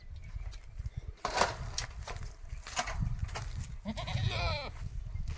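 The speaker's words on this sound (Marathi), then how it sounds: "हे बघा शेळ्या आत कशा बसलेल्या आहेत." Goats resting inside a farm pen enclosed by eight-foot mesh fencing give a few nearby bleats, mostly toward the end, amid scattered rustling and shuffling.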